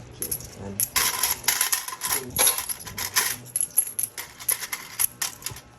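Coin jingles in the Tongits card video game, a dense run of bright clinking and rattling effects layered over busy game sounds, fairly loud and continuous.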